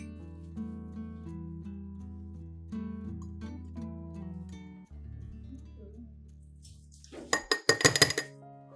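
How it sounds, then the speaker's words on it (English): Sautéed green onions are scooped into a glass jar, giving a quick run of sharp glassy clinks and taps near the end, after a stretch where steady background music dominates. "Scoop the sautéed onions into a glass jar."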